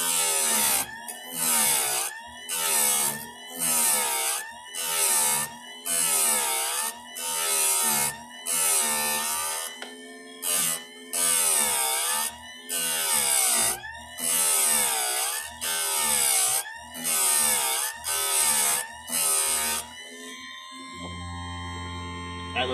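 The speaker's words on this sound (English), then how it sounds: "That way we can get this tooth sharpened." A file sharpening a chainsaw chain tooth, a steady series of rhythmic rasping strokes, each about a second long with short pauses between, close and clear, ending with a softer scrape.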